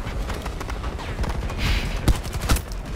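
A stationary turret firing in Battlefield 2042, a steady stream of rapid shots with a couple of louder sharp impacts near the end, fairly close and loud.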